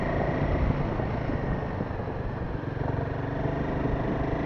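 A motorcycle riding uphill on a winding ghat road toward Maredumilli in daytime, its engine a steady, close drone with continuous wind rush and no talk throughout.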